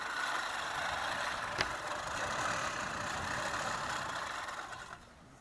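Steady, even whirring of a freshly sharpened manual reel mower cutting grass and clover in a yard, a continuous close rushing sound with one brief click, easing off toward the end.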